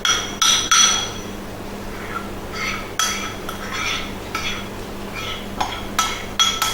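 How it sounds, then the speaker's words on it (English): A spoon scrapes and knocks against a tray of chocolate bark, making a series of sharp metallic clunks and clinks at an irregular rhythm. The sounds are close and fairly loud over a low background hum. "Might be a little bit of clunking around while I scrape the chocolate."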